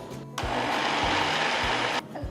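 A mixer grinder whirs loud and steady for about a second and a half, grinding rice and wheat flour into dough, with brief rattling bumps before it starts and after it cuts off.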